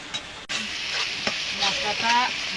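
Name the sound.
spice paste and tomato sautéing in pan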